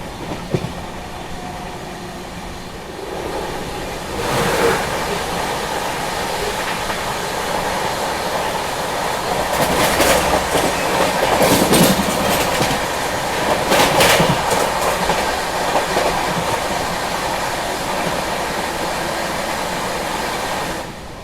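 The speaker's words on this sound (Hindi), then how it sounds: "ये आ गई मंगला लक्षद्वीप एक्सप्रेस।" The Mangala Lakshadweep Express pulling into a station: rolling coaches with rhythmic clickety-clack of wheels over rail joints, brief screeching wheel squeals, fairly loud and close, building toward the middle, with no speech.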